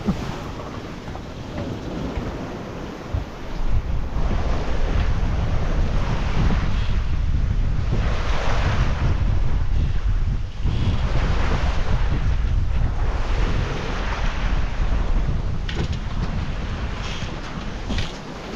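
Surging sea waves roll and rumble at open sea between Gambia and Cape Verde, deep rushing swells rising and falling, mixed with buffeting wind noise against the microphone.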